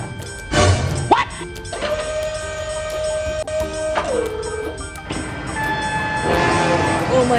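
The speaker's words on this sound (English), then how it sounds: "Oh my God, train!" A train in the BeamNG Drive driving game rumbles closer with a long steady horn blast, while an excited voice shouts over the noise.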